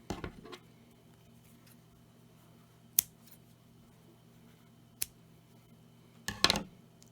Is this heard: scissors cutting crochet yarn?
yes